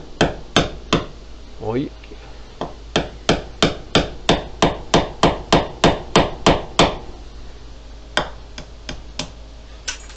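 Hammer driving a steel nail into a plastered wall: a long run of sharp, evenly spaced metallic blows at close range, briefly interrupted, then a few more strikes, with a short spoken word near the start.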